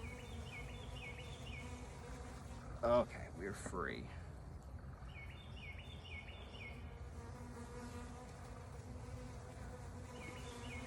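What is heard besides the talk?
honeybees buzzing around hive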